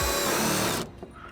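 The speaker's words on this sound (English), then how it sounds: "Then I'll start actually drilling." Power drill boring a rivet hole in a Dodge Challenger body panel, a loud continuous whirring buzz that cuts off abruptly after under a second, leaving quiet room tone.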